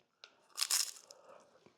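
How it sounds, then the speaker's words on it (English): Someone bites into the hard, crunchy crust of a cheap homemade pie, giving a short, close, quiet crunch with crackling crumbles and a second sharp snap at the very end. "Gives it a bit of texture, doesn't it? Bit of crunch."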